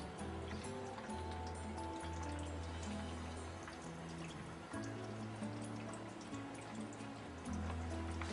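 A reverse osmosis water system fills with water, giving a faint, steady trickle and drip under a hum of tonal valve or faucet noise that shifts pitch in steps.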